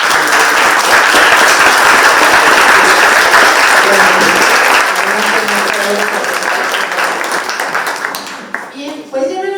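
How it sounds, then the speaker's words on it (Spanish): An audience at a school project presentation applauds loudly and continuously, the clapping filling the room before thinning out near the end as a voice begins over it. "Entonces un fuerte aplauso, por favor."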